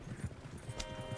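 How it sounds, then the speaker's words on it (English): Horse hoofbeats gallop in rapid, rhythmic clip-clop in Red Dead Redemption 2, fairly faint under the game's background sound. "Horses won't go this fast for long."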